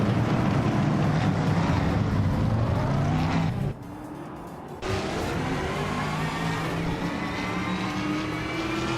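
A 2021 Chevrolet Camaro racing at the Aviano GP in a video game: a loud, continuous engine roar with rising and falling revs, briefly cutting out for about a second before roaring back.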